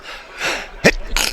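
A single quick sneeze from a person at a 9-ball pool match, a short sharp burst near the end followed by a breathy sniff, close and moderately loud over faint room ambience.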